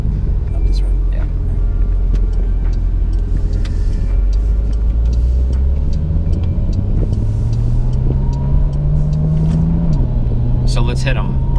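A 2020 Porsche 911 Carrera S (992) engine pulls through the gears on a road drive, a steady rising drone that climbs in pitch, drops at a shift, and carries on close and loud inside the cabin.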